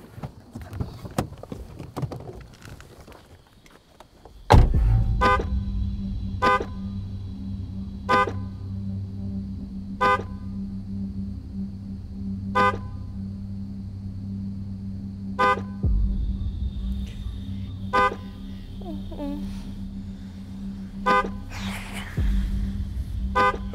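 Car horn giving short, sharp toots at regular intervals as the car is locked over and over, about a dozen evenly spaced beeps over a low steady engine hum that starts abruptly after a few seconds of quieter noise.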